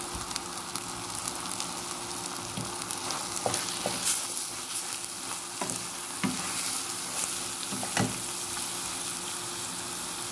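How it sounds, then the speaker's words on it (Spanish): Ground beef frying in a pan while being stirred, a steady loud sizzle broken by repeated scraping strokes of the utensil against the pan, with no voices. "Ahora sí creo que ya está la carne frita."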